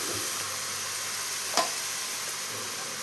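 Mutton curry sizzles with a steady, even hiss in a pot, broken by a couple of brief scrapes from a stirring spoon; no voices.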